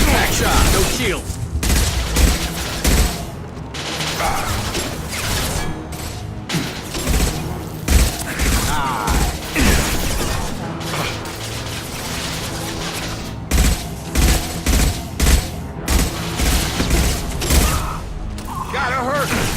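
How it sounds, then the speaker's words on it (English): Rapid gunfire crackles through a Mass Effect 2 firefight, dense bursts of shots and mechanical clatter with brief gaps between volleys. "Firing a high-impact shot."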